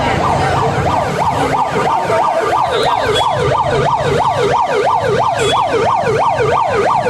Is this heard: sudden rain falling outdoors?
no